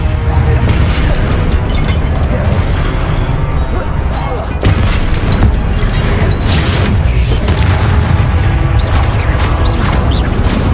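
Confringo fire-spell blasts in the Hogwarts Legacy video game, a dense run of loud booming explosions and crashes with battle effects filling the whole stretch, briefly dipping midway before another heavy burst.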